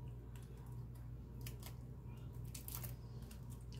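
Scissors snip out a craft butterfly wing cutout in a few soft, scattered cuts, faint and close over a steady low electrical hum.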